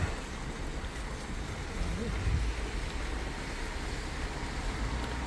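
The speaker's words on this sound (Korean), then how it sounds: "바람이 너무 불어서 잠깐 대피하고 있습니다." Strong wind blows outdoors in front of Busan Station, producing a constant low roaring rumble and buffeting against the microphone throughout, loud and close, with no clear speech.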